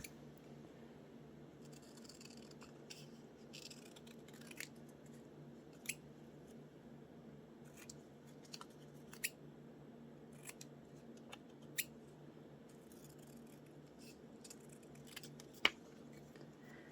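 Scissors snip paper words out for a crossword puzzle collage, sparse, quiet crisp cuts spaced a second or two apart over faint room hum.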